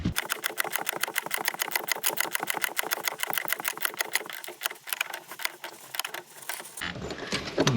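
Rapid, evenly spaced ratchet clicks from tightening the rear strut nut on a Porsche 996/997 while a 7 mm wrench holds it, running steadily and close, with a brief pause and a change near the end.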